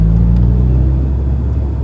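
A 40-year-old Vauxhall Cavalier rolls along with a steady, loud low engine rumble and road drone, the pitch easing slightly as the car slows, with no voices.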